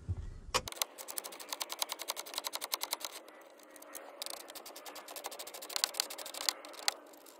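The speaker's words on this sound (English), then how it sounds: "throw on a 10 millimeter socket and we'll get these unscrewed" A socket wrench ratchets out 10 mm screws from a Toyota Tundra stereo unit, giving long runs of quick, even clicks in close-up, pausing briefly and then resuming.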